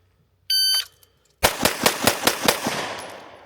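A rapid string of seven pistol shots fired in a Bill Drill at a shooting range, each crack sharp, loud and close with ringing decay, preceded by a brief shot-timer beep.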